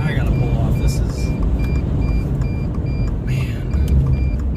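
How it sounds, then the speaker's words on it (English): A car's low-battery warning chimes in short, evenly spaced high beeps that repeat over steady road and engine rumble inside the moving vehicle. "I don't know why you need to beep for 5 minutes, man."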